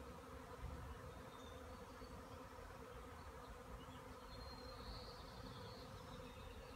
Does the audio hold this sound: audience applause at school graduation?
no